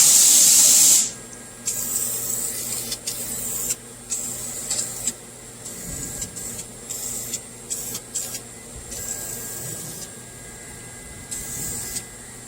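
Aerosol spray paint hisses in short bursts as a first coat goes onto new door cards for a 1962 Mercury Comet, one long opening blast followed by many brief, close, sharp sprays with pauses between.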